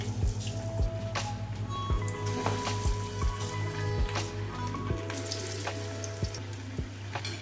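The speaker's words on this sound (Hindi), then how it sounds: "बढ़िया उलटाते पलटाते बढ़िया तरह से इनको गोल्डन ब्राउन होते हुए फ्राई कर लेना है" Breadcrumb-coated potato and egg snacks fry in hot oil with a steady close sizzle, broken by repeated sharp taps and clicks as the pieces are turned and moved around.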